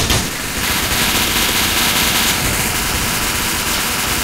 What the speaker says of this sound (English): The sound of gunfire and music.